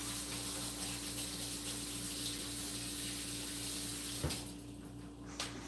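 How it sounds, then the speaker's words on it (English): A kitchen tap runs steadily into a sink during washing up, a constant close rushing stream under a low hum that cuts off near the end, followed by a couple of faint clunks. "I will probably turn up the water a bit."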